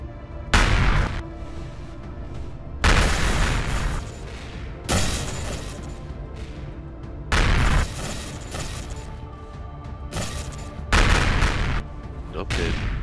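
Cruise missiles fire in the space game Empyrion Galactic Survival, a series of heavy booming launches and blasts in repeated loud bursts with rumbling, crackling fire between them.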